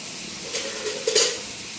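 A couple of fenugreek seeds spluttering in hot oil for a prawns coconut curry: a faint, quiet hiss with two brief soft crackling bursts, heard alone.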